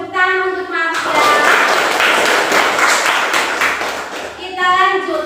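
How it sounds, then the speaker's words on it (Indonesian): Students in a classroom clap for a classmate after his answer, a burst of brisk group clapping that starts suddenly and fades out, with a teacher's voice heard just before and after. "tepuk tangan untuk Marcel"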